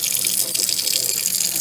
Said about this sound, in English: So let me get these cleaned up, just some hot soapy water